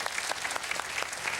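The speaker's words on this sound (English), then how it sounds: "Bring her down to the round of applause." Brief burst of audience applause at a stage show on psychic secrets, dense rapid clapping from a crowd, steady and fairly close, with no pause over its short span.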